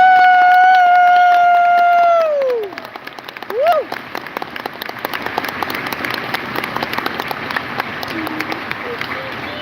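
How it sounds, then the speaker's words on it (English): A crowd breaks into applause at the Anthrocon convention closing ceremony after a sustained musical tone fades, the clapping continuing steadily as a dense patter to the end. "Give yourselves one of the biggest round of applause because you deserve it."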